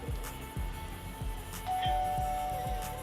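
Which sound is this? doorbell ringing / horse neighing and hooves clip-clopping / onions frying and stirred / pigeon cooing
doorbell ringing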